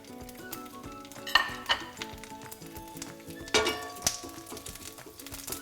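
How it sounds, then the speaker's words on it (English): Mustard seeds splutter and pop in hot oil in a pan for a tomato chutney, with a busy crackling sizzle, several sharper bursts of popping and occasional clinks of a utensil against the pan. "So the mustard has started spluttering"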